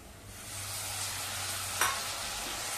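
Chopped tomatoes sautéed in a pan for dal tadka, a continuous hissing sizzle with a low steady hum and one sharp utensil tap near the end.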